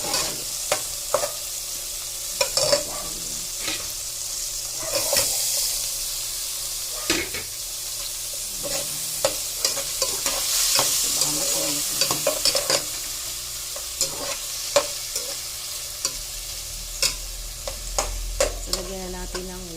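Onion sautés in a pan for salmon sinigang with a continuous sizzle and frequent sharp spatula strokes scraping and clacking against the pan, close and busy, with no talking.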